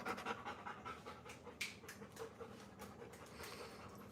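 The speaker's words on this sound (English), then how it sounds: "You might be able to hear her panting." A female dog, frightened by a storm, pants close by in rapid, steady breaths that run through the whole stretch with no talk.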